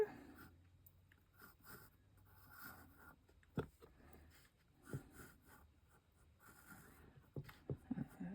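A pencil sketching on paper to lay out a gnome and pumpkin drawing, soft scratchy strokes in short bursts, faint and close, with a few louder taps.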